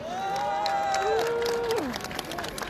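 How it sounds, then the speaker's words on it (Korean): A political rally crowd claps and cheers to welcome a party spokesperson, moderately distant applause under a prominent sustained tonal sound, like music, that shifts pitch. "여러분, 김은혜 대변인을 여러분 큰 박수로 맞아주시기 바랍니다."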